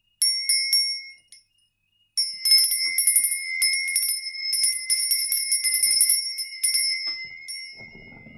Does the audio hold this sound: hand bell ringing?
yes